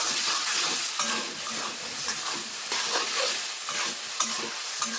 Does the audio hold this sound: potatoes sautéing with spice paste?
yes